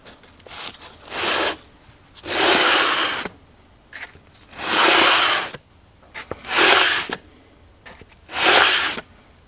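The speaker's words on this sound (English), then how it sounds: "it should only take me a few swipes with the sandpaper to take them all level" Sandpaper is swiped over guitar frets to level them during a re-fret, giving six loud, even rasping strokes in a steady rhythm with short quiet gaps between them, close up and with no talk.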